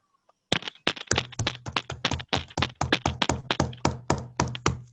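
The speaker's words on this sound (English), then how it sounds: "Let's clap for them" Audience applause for debate winners on a studio show, a brisk run of close, sharp hand claps in an irregular rhythm, fairly quiet and sparse rather than a full crowd.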